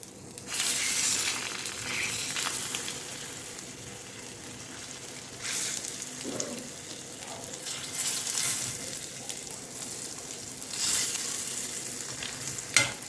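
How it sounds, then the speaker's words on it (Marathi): Eggs frying in oil on a tawa, a steady loud sizzle with repeated stirring and scraping swells throughout, close and continuous with no talk. "अंडा आपण याच्यामध्ये फ्राय करून घेऊ म्हणजे मस्त तेल मीठ लागलं जातं"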